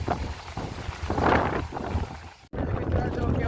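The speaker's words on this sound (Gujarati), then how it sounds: "કેવ ગસબનું વાવાઝોડું શરૂ થઈ ગયું" Strong windstorm wind roars and buffets the microphone in loud gusts during heavy rainfall in Gujarat, with a brief drop-out before the rushing resumes.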